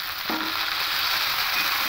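Potato pieces frying in a pan give an even, close sizzling hiss that holds steady throughout, with a faint stir or scrape near the start.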